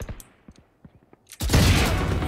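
Gunfire in the tactical shooter Valorant, with a rapid run of sharp shots and clicks followed by a sudden loud, dense burst of shooting and impact noise that fills the final second.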